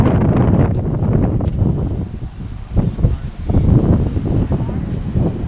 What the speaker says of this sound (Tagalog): Nanginginig yung hangin.